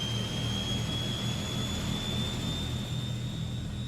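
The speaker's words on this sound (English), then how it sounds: "You can hear that engine, how loud it is." Loud, unbroken engine roar from a Transall C-160 turboprop transport in Microsoft Flight Simulator, with a heavy low rumble and a thin high whine that creeps slowly upward in pitch, no voices.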